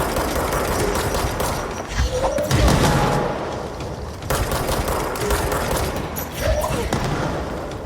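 Gunfire and grenade blasts in the video game Control, a loud sustained barrage of shots with heavy booming impacts and thuds, dense and continuous throughout.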